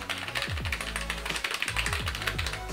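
Rapid clacky taps on the keys of an NPET K11 wireless mechanical gaming keyboard, close and crisp, in an uneven typing rhythm with no voices.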